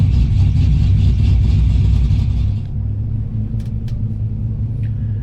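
Low, steady rumble of a 2018 GMC Denali 6.2 V8 held on an MSD two-step set low, loud and close at first with a brief rise, then settling to a lighter idle-like drone.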